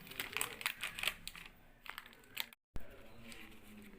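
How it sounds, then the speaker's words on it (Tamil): Baking paper is peeled off a freshly baked cake with light crinkling and tearing rustles, close and fairly quiet, broken by a brief silent gap. "இப்போ நம்ம இந்த பேப்பரை ரிமூவ் பண்ணிக்கலாம்."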